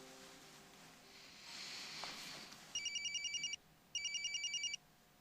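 A telephone rings in two bursts of rapid electronic trilling, each lasting under a second with a short pause between, heard fairly close over a quiet room hiss.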